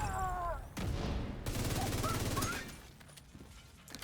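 Bursts of rapid gunfire in a shooting video game, aimed at headshots, come in loud clustered volleys with sharp impacts, then taper to quieter scattered shots; a voice is briefly audible.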